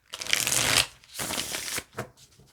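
A deck of cards is shuffled by hand, with two long riffling bursts followed by a short flick, close up and with no voices.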